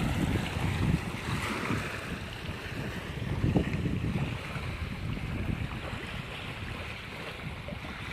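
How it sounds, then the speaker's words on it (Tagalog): Wind buffets a boat out on Lake Como, Italy, on a Sunday morning, a steady low rumble of gusts and water noise with no talking. "sarap ng hangin"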